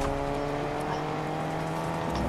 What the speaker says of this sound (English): Because the car's kind of loud.